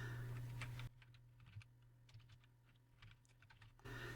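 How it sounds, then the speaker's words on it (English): Someone types an email address on a computer keyboard, a quick run of light clicking keystrokes, close and soft against a quiet hum. "you want to type in your email address that you want to hyperlink this to"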